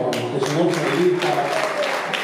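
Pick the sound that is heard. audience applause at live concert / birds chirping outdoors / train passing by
audience applause at live concert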